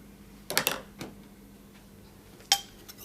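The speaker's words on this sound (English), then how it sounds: "Just spoon the sauce over." A spoon clinks against a pot and plate while bolognaise sauce is ladled over pasta, giving a few sharp metallic taps and scrapes with quiet pauses between them.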